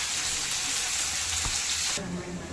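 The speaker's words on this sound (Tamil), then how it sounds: "அடுத்து மீன் வறுக்க போட்டிருக்கோம்" Fish frying in hot oil gives a dense, continuous close sizzle that drops abruptly near the end.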